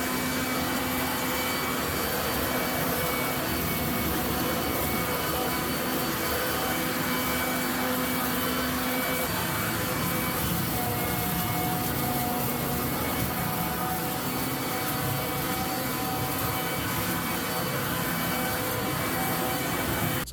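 A WORX 12 Amp Trivac 3-in-1 electric leaf blower runs in vacuum mode, giving a steady, loud whine and rushing airflow that holds unbroken from start to finish with no voices over it.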